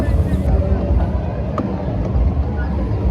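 A boat ride on the water at a holiday park, heard as a steady low engine rumble with wind buffeting the microphone. Voices murmur faintly under the noise.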